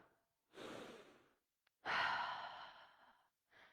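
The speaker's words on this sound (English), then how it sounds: "breathe in and out." A person in a yoga studio class breathes deeply in and out, making two long audible breaths close to the microphone with a brief quiet gap between them, then starts a third.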